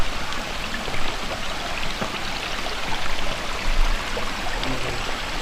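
A small waterfall and stream at Devkund in the Sahyadri hills, a continuous rushing, splashing wash of water that stays loud and steady with no voices.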